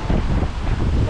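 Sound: strong wind from typhoon

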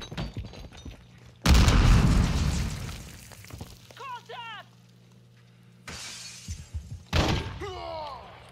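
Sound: frag grenade explosion in the video game MW2

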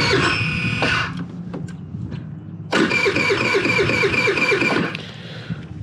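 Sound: Pony 50cc scooter engine cold start

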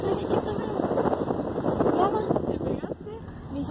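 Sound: cold wind blowing at night

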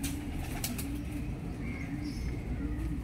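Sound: pigeons cooing and flapping

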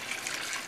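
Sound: pouring boiling water into pan for arroz con pollo

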